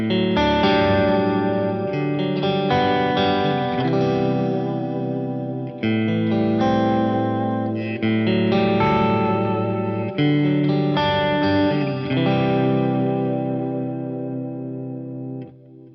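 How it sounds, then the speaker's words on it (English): Sustained electric guitar chords strummed through a modulation delay effect, shimmering with chorus-like wobble and trailing echoes, played in several rhythmic phrases that ring out and decay, with no talking. "The modulation delay is great for chord accompaniment"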